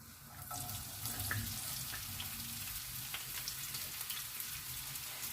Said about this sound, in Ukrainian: Тепер цибульку викладаємо у сковорідку.